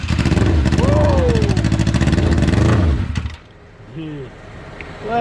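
A 600cc motorcycle engine, the donor bike for a street kart build, revs hard to its limiter with a loud, close, buzzing drone, then cuts out abruptly to idle, with voices near the end.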